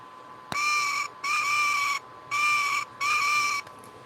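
A brown Light and Sounds toy owl giving four electronic hoots, each a steady tonal whistle about half a second long separated by short gaps, fairly faint and alone over quiet background.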